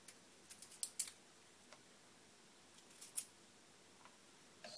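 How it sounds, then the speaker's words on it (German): A peeled ingredient being cut into small slices with a knife, heard as a scattered series of soft, crisp clicks against a cutting board, with a few louder taps and quiet gaps between them. "könnt ihr ihn in kleine Scheiben schneiden"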